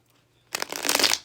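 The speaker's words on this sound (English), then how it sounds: "I'll give them a couple more quick shuffles" Tarot cards shuffled briskly in the hands, a short burst of crisp riffling flutter that starts suddenly after a quiet moment, close and fairly soft.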